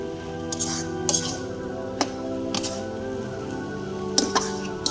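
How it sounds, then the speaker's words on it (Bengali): Boiled leafy greens stirred in a pan, with a few sharp spoon scrapes and clinks against the metal over a steady low hum, close and moderately loud, and no voices. "শাকগুলো আমি নেড়ে চেড়ে দেবো।"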